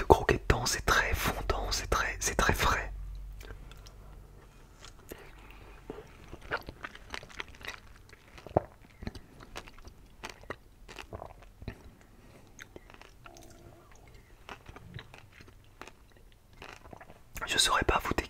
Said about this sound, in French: Et c'est agréable de croquer dedans, c'est très fondant, c'est très frais.